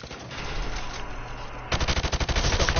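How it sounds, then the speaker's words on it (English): A rifle fires in rapid full-auto bursts at targets in Call of Duty Modern Warfare Remastered, loud and close, the evenly spaced shots starting suddenly after a stretch of steady background noise. "Now, shoot the targets while firing from the hip."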